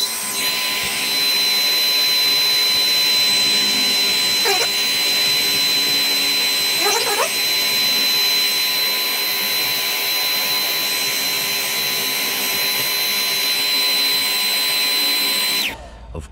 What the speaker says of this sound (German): jetzt tun wir erst einmal mit dem Föhn den Aufkleber wegmachen